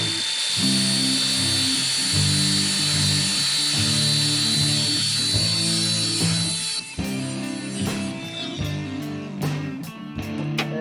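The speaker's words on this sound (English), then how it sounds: "we're going to clean this up with the grinder and basically just weld this onto there" An angle grinder cleans up metal on an Eastwood bead roller in repeated bursts. Each burst brings a loud whining drone and harsh scraping, with brief clanks and pauses between passes.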